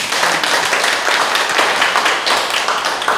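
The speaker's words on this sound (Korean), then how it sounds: "이럴 때 박수를 하셔야죠." Congregation clapping at a Korean church revival worship service, a dense, steady wash of many hands filling the space for several seconds without pause.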